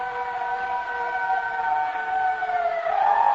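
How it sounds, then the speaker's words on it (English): A wailing fire siren from an old radio drama rises and holds as a steady, moderately distant tone for several seconds, heard on its own without any talking. "It's just a fire siren."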